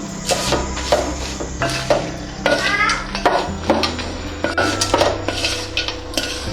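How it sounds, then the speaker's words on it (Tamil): A metal spoon scrapes and clinks steadily against a pan while lemon rice is mixed, close and rhythmic, with a faint sizzle underneath. "மிக்ஸ் பண்ணி விட்டுக்கலாம்"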